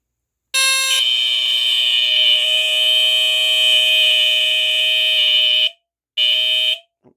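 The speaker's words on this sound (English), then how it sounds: "you'll notice the sound of the horn in here sounds very modulated" A First Alert SA10CRF smoke alarm's loud, steady horn blares for about five seconds, stops briefly, then sounds again for a short burst.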